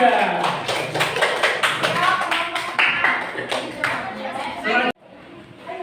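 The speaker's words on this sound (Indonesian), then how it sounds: "Tepuk tangan untuk kelompok 3." Steady applause from a classroom audience, many hands clapping loudly at once for several seconds, then cut off abruptly, leaving quiet room noise.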